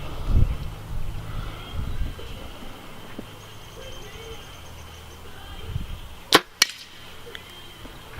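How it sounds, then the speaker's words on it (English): An arrow tipped with a G5 Striker V2 broadhead strikes a cinder block with two sharp, loud cracks in quick succession, set against quiet outdoor background noise and faint rustling. "This time we're shooting it into a cinder block, same broadhead."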